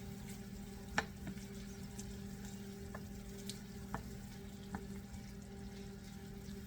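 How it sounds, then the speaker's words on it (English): Onions sizzle and crackle steadily in hot oil as they are stirred around a pan for polenta with currants, with a few sharp scraping clicks of the spoon scattered through the continuous frying hiss. "Now I know this oil is still hot, so I'm going to still stir them around until it cools down a little"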